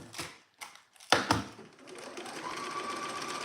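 A sewing machine stitching a vintage shirt dress gives a few sharp taps and clicks, then settles into a steady, close mechanical whir that runs without a break. No one speaks.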